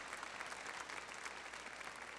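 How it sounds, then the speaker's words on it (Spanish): A church congregation claps together in a sustained burst of applause, dense and even in loudness, heard from a distance and fairly faint. "Regálenle un aplauso a nuestro Dios."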